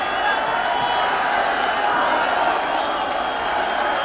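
A rugby league cup final crowd cheers as the players carry their captain shoulder high after a 1977 Lancashire Cup final win; a broad, steady roar of cheering and clapping fills the scene, loud and continuous.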